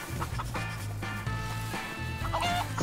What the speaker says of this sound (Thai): ไก่ร้อง เอ้ยใช่ไก่